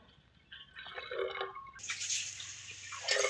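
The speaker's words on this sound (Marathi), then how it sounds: "आता आपण पाणी उकळायला ठेवूया" Water being poured into a pot set to boil on a wood-fired stove for making alu vadi, a faint close splashing and trickling fill that grows brighter and fuller partway through, with no voices.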